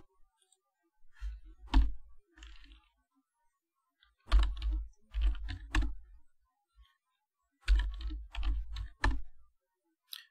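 A password is typed on a computer keyboard in bursts of quick, close key clicks separated by short pauses, in an otherwise quiet room.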